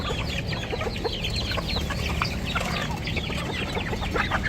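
Backyard hens being fed scraps, keeping up a dense run of close clucks and squawks over a steady background murmur.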